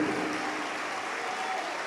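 A church audience claps continuously, a thick, even wash of hand-clapping at constant loudness from start to finish.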